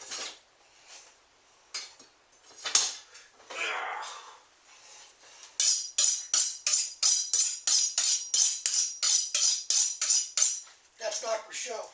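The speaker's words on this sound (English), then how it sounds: "The first thing we're going to do is we're going to slice up our sausage" A knife slices through sausage on a cutting board for lasagna, a steady run of crisp, evenly spaced cuts after a few scattered scrapes and handling sounds, close and clear.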